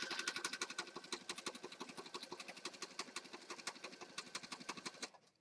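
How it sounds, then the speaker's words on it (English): A sewing machine stitches down the side of a junk journal, a rapid, steady run of close, even stitch pulses that carries on alone for about five seconds before stopping. "I just sewed down one side"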